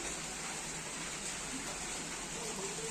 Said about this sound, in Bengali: দারুণ বৃষ্টি পড়ছে এটা হচ্ছে বর্ষাকালের বৃষ্টি